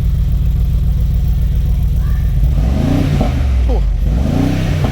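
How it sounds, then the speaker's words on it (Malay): A Honda Civic FL5 idles with a deep steady rumble, then the engine revs twice in Sport Plus mode, each rise and fall in pitch close and loud. "Sport Plus, kejap saya tekan minyak sikit, kita dengar bunyi macam mana untuk Sport Plus ni."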